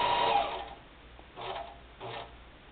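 A quilting machine stitches across fabric in three bursts: a longer run of steady mechanical whirring, then two shorter ones separated by pauses, all at moderate volume with no talk.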